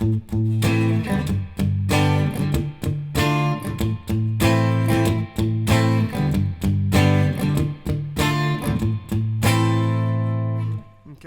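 Electric guitar strums three barre chords in a steady, punchy rhythm with short choppy accents, loud and close, no voices, playing the verse of a song.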